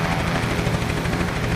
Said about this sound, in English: So the helicopter has landed on the field here and delivering the game ball.